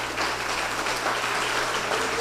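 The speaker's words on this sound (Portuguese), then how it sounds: "Toda vez nessa pregação que eu falar amém, você vai aplaudir." A congregation at a church retreat claps, loud, dense applause that continues without a break through the whole short stretch.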